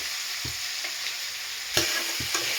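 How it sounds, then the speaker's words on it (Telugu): Prawn shells fry in a pan with onions for a home-style brinjal and dried prawn curry, giving a continuous close sizzle with a few stirring scrapes and knocks. "రొయ్యల పొట్టును కూడా కొంచెం ఫ్రై కానివ్వండి."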